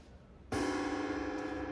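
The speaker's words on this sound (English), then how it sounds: "And there's the bell." A bell is rung at the close of a vinyasa flow yoga class: after a quiet moment, a single strike opens into a sustained, even ringing tone that holds steadily.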